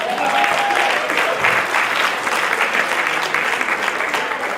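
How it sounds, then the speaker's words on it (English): Audience applause at a standup comedy fundraiser, a dense, steady wash of many hands clapping that stays loud and unbroken throughout, with no talking over it. "So a big round of applause for Ranjini Akka."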